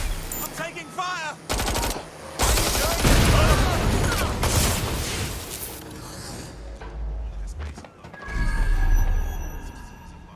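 Automatic and rapid gunfire in the video game Watch Dogs Legion, loud sustained bursts of shots with brief gaps and dense booming volleys, while a character's voice shouts over the action.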